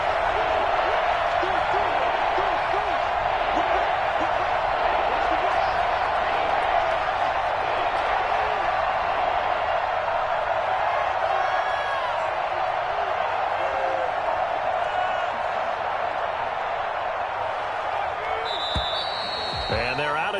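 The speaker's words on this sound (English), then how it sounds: "this is where the Arrowhead crowd can make it very tough" Football crowd at Arrowhead Stadium in Kansas City during a tense third-and-goal: a loud, continuous roar of massed voices that holds steady throughout, with a few sharp knocks near the end.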